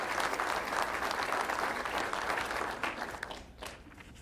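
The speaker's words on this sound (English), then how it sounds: "Could I have a round of applause for Spence Brothers?" At a Saginaw State of the City address, an audience gives a round of applause for Spence Brothers; the full, even clapping holds strong, then fades away in the final second.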